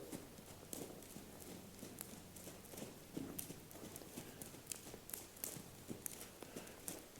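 Steady clip-clop of horse hooves walking on a hard surface, irregular but continuous, close by with faint background noise.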